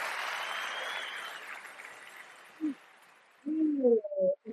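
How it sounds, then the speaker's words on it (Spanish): Live studio audience of a Spanish-language evangelical podcast applauding on cue, a broad wash of clapping that fades over a few seconds, followed by brief voices and laughter close by. "¿qué tal si usted ahora aplaude?"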